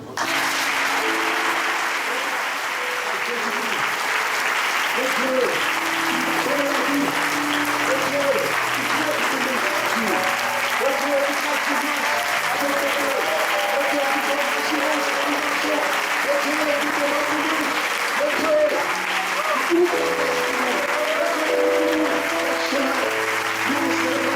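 A church congregation claps steadily and continuously at an evangelical Sunday service, with voices singing or talking audibly over the applause throughout.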